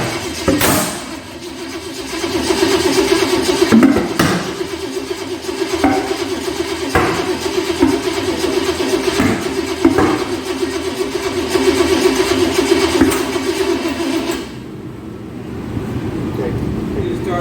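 A 383 stroker small-block engine for an '82 S10, mounted on a DIY run stand, cranks on its starter with a steady mid-pitched churn that runs for about fourteen seconds before stopping, with voices nearby.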